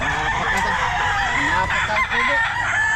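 Golden Boy roosters at a busy pet market crow and cluck close by, with several overlapping calls against loud crowd chatter and market noise.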